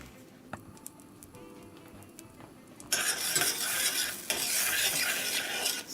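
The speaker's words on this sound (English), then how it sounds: "So we're melting the 1/4 cup of butter" Butter melting over low heat in a pan while being stirred, with quiet scraping at first, then a steady broadband sizzle that swells loud near the end.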